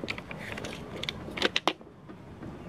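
Screw adjustment on a Hoyoma chainsaw attachment gives a few faint mechanical clicks and creaks, with a brief cluster of sharper ticks near the middle against a quiet background.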